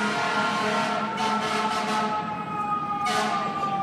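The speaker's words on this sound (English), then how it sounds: "Oh, here we are, more sirens again." A fire truck siren wails nearby, its steady tones rising and falling, with a short burst of hiss partway through.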